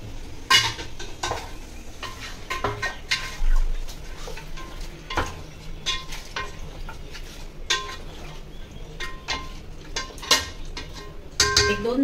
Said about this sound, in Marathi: मटण आता छान परतून घ्यायचं मोठ्या गॅसवर